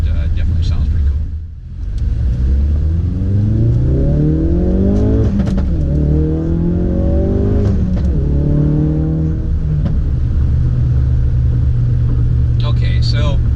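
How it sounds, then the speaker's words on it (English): Ford Focus RS fitted with an MRT cat-back performance exhaust accelerating through the gears, loud rising engine drone with several upshifts and aggressive exhaust rumble, heard close from inside the car. "spirited acceleration under normal driving mode definitely has a performance sound, definitely an aggressive exhaust"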